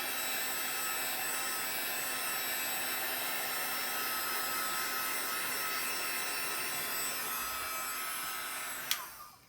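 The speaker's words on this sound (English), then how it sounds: "That's just a heat gun that I use for embossing and other things." A heat gun used for craft embossing runs steadily with a loud, constant airy blowing roar and a faint electrical hum, then clicks off near the end; no one speaks.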